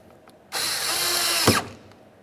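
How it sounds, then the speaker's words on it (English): A power drill drives the upper mounting screw of a power heated flip-up towing mirror on a 1994-2002 Dodge Ram 2500, giving one steady, close whirring run of about a second that ends with a brief louder catch. "let's put in our upper mounting screw"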